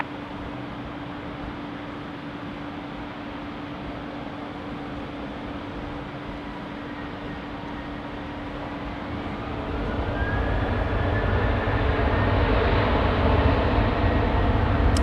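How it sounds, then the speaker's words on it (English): A Qantas airliner begins its takeoff roll on runway 16 right at Sydney Airport, a distant steady hiss and hum that swells into a louder, broad roar partway through. "Qantas 739, run the 16 right, clear for takeoff"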